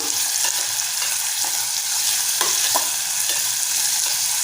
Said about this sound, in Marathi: इथे आपण हिरव्या मिरचीचे तुकडे घेतले आणि कढीपत्ता तो घालून घेऊया आणि परतून घेऊया